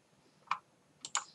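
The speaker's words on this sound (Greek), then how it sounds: "πατώντας το κουμπί δίπλα από το αστεράκι, κάνουμε κλικ" A few sharp mouse clicks on a web shopping page, a single click followed by a quick double click a moment later, close and crisp in a quiet room with no talking.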